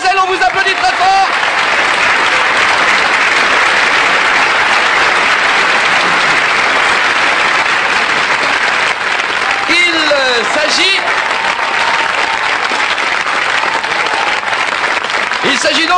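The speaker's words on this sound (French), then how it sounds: "on vous applaudit très fort" A television studio audience applauding loudly and continuously, a dense sustained wash of clapping lasting throughout, with voices and a few shouts faintly audible beneath it.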